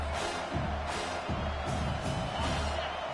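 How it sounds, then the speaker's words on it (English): A college football stadium crowd roars for the defense on third down, a sustained, distant wash of cheering with a commentator's voice talking over it. "Decibels rising as the crowd gets behind this defense on 3rd down."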